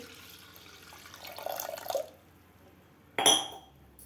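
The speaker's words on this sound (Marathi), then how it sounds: "यामध्ये आपल्याला एक ग्लास पाणी घालायचं आहे" A glass of water is poured into a pot of washed moong dal in a short splashing stream, followed after a pause by a sharp clink of a glass or vessel.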